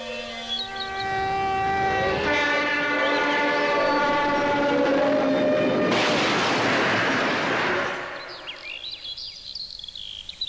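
A train rolls past with its horn blaring in long sustained tones, followed by a roaring rush of wheels and cars that fades out toward the end.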